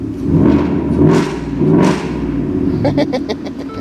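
A loud truck engine revs near the listener, swelling in two or three surges before settling into a steady rumble, with a voice speaking over it.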